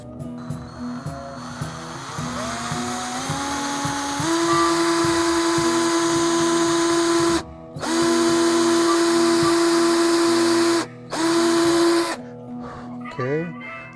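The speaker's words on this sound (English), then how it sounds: "I come in with my drill" A power drill bores into a cigar box guitar, its motor spinning up and holding a loud, steady whine that breaks off twice briefly before winding down.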